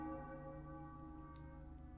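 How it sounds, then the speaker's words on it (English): A church bell rings in the video game Enigmatis as a sustained, faint, resonant tone with long ringing overtones that hum steadily throughout with no one talking. "The mechanism is damaged and doesn't work, but the bell keeps ringing."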